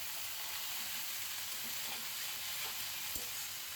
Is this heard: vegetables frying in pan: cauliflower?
yes